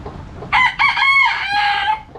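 A rooster on a farm lets out a loud, close crow in a few drawn-out bursts, with quieter clucking from chickens around it and no voices.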